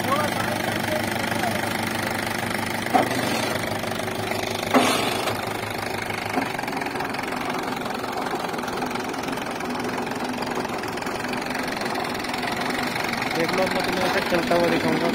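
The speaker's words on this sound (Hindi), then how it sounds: "स्टार्टिंग कितनी प्यारी है इसकी ट्रैक्टर की।" A Mahindra 575 DI tractor's diesel engine idles steadily throughout, with a low rumbling chug and a couple of sharp knocks, while someone talks over it.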